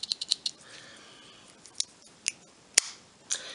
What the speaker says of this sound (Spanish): Luego, ya más por el medio, tenemos las tijeras, las súper útiles tijeras.